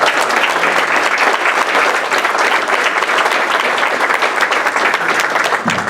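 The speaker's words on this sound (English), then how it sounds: "let's give her a round of applause and congratulate her" An audience at a school board meeting gives loud, sustained applause for a student artist award winner, a thick, even roar of many hands clapping throughout.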